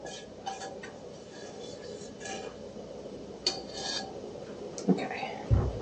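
A utensil scraping brownie topping out of a baking pan, giving faint intermittent scrapes and light clinks that grow a little louder toward the end, with a quiet voice speaking underneath.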